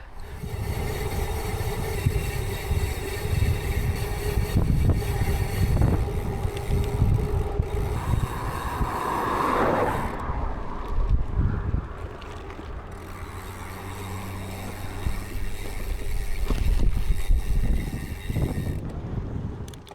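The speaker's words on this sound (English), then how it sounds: "you'll have to excuse the road noise because I've parked right next to a main road" Continuous low rumble of passing vehicles on a busy main road right beside a parked spot in the Cotswolds, steady throughout with swells as cars go by, some wind buffeting the microphone.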